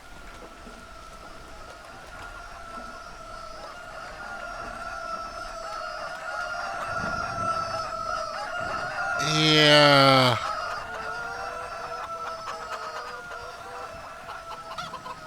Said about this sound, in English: There seems to be a looping bug with the roosters crowing.